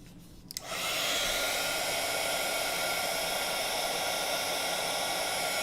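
A heat embossing tool roars on after a moment and holds a steady, loud blowing hiss while it melts gold embossing powder on a layered paper tag.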